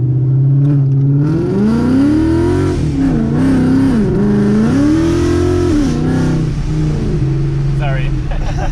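Ford Mustang engine held at around 2000 rpm then let go, a loud, close, continuous throaty drone whose pitch wavers and dips, with a voice talking over part of it.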